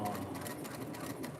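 A home sewing machine runs steadily during a sewing session, its motor giving a continuous, even whir with a faint mechanical rattle and no pauses for the whole stretch.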